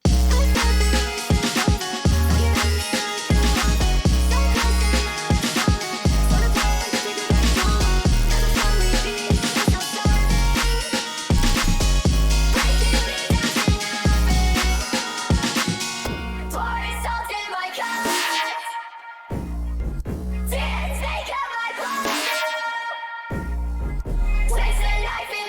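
Hyperpop 808 bass made in the Serum synth, booming and distorted under a dense electronic beat with bright synths, cutting briefly to sparse gaps around the middle before the full mix returns.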